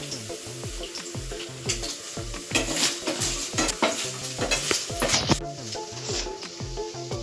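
Paneer cubes fry in hot oil until golden. A continuous sizzle runs under rhythmic stirring clinks and scrapes of a utensil against the pan, with no talk.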